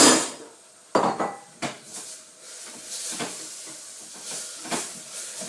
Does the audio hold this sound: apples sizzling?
yes